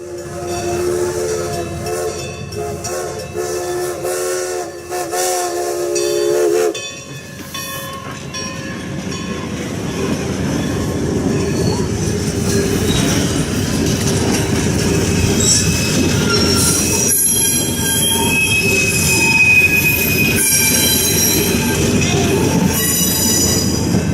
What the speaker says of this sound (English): the train crosses Loop Road at the site of the former PRR passenger